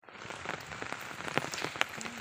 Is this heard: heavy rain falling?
yes